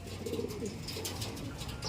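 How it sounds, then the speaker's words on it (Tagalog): Racing pigeons arriving home coo steadily in low, throaty rolls, with faint fluttering and shuffling around them and no voices, in North Muñoz, Nueva Ecija. "Pasok 828 huling ibon natin, si Peter B. Hen."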